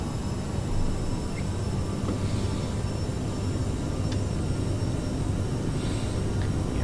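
CRJ-900 regional jet engines at takeoff thrust in Microsoft Flight Simulator 2020, a steady roaring drone with a faint high whine, heard alone and unchanging.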